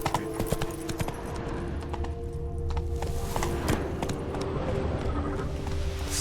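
Roach, a horse in The Witcher 3 video game, gallops with a steady, fast clip-clop of hooves over continuous ambient game sound, close and moderately loud throughout.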